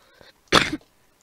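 A single short, harsh cough or throat-clear from a person with a cold, close and fairly loud, standing alone in near silence with a faint breath just before it.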